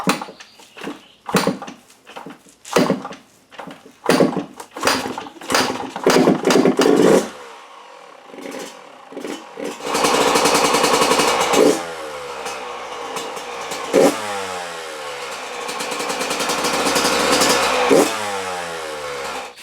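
A Yamaha YZ125 two-stroke dirt bike that runs rich, kicked over in a series of loud thumping strokes before it fires and settles into a raspy, buzzing idle with rising revs, loud and close.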